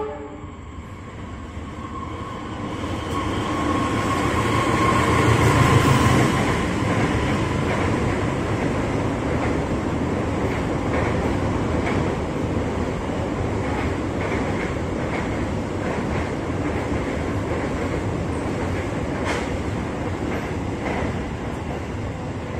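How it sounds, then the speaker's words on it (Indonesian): A freight train passing through Depok station at night, a long, loud continuous rumble and clatter of wagons that swells early and then rolls steadily on, with a horn near the start. "Ini adalah kereta barang."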